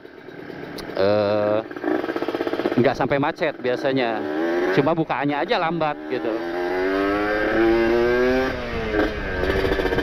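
Kawasaki Ninja RR two-stroke motorcycle with a sticking superkips power valve, revving in sharp rising bursts and then holding a high whining rev, close and loud, while someone talks over it.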